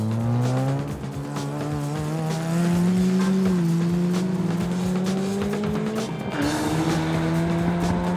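A 1984 Mazda RX7 race car screams around a track, its rotary engine holding a loud, rising then falling drone close by, with a sudden pitch jump near the end as it shifts.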